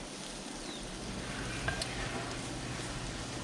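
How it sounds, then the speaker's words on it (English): Thinly sliced onion sautéing in olive oil and butter, a steady close sizzle and crackle with a faint stirring scrape partway through. "I am just sauteing some onion. I just sliced some onion up thin, and basically trying to caramelize the onions."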